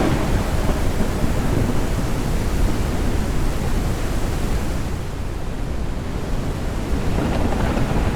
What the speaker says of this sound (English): A storm is coming. Oh geez, another storm coming in.